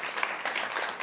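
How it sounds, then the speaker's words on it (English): Brief burst of audience applause at a MozFest 2019 panel on content moderation, dense and steady for about a second. "Round of applause for all the folks here at Mozilla who put the show on"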